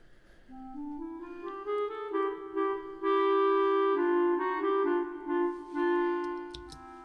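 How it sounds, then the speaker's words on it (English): A lone clarinet plays an isolated melodic line that doubles the violins an octave lower, a soft, smooth legato phrase of sustained notes that rises and falls gently, with no other instruments. "the instrument that is actually faithfully doubling every single thing that the violins do is actually the clarinet, an octave lower for the most part"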